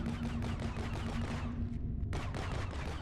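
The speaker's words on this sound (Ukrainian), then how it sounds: "Давайте в нього постріляємо." Rapid bursts of gunfire in the video game Project Tower demo, dense and continuous, with a brief pause before the shooting resumes, set against a steady electronic hum.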